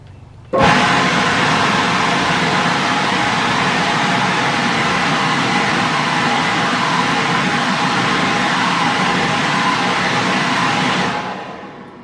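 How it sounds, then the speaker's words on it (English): A Ryobi 40-volt battery leaf blower starts abruptly and runs at a steady, loud, close whoosh for about ten seconds before winding down, with no talking. "That's a Ryobi 40 volt blower."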